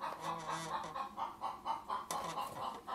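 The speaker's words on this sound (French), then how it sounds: "Donc la poule a été sortie et elle a pondu un œuf" A hen clucks after laying an egg, giving a close run of rhythmic, repeated clucks at a steady pace with one sharper burst partway through.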